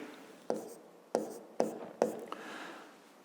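A pen writing numbers on paper during a fifth-grade maths exercise, four crisp taps and short scratching strokes at close range, quiet and unhurried.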